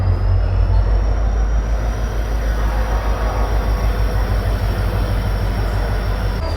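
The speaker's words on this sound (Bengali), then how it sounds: "আমাদের train Howrah two Kanyakumari superfast express এখন 22 নম্বর প্ল্যাটফর্মে ঢুকছে" The Howrah–Kanyakumari Superfast Express (12665) rolls into platform 22 with a loud, steady, deep rumble of wheels and coaches that continues without pause.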